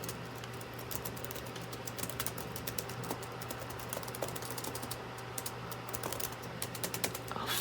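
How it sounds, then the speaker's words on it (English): Typing a name on the keyboard of an HP Pavilion dv9417cl laptop: a steady run of quick, light key clicks, close up, over a constant low hum, with no talking. "type in my name."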